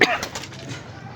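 A pigeon gives a short coo, one soft throaty call rising out of a brief noisy burst at the start, with faint background noise trailing after it.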